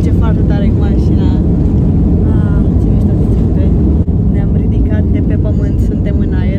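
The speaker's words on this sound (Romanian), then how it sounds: "decolăm!" A passenger airplane's engine roar during takeoff, heard from inside the cabin as a loud, continuous, deep rumble that holds steady throughout, with a voice talking over it.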